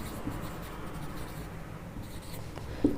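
Marker or chalk writing on a board while a trigonometry problem is worked out, with a soft, continuous scratchy scraping at close range and a slightly louder tap near the end.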